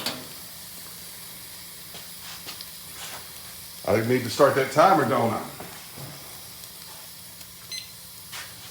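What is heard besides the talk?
steak sizzling on infrared sear burner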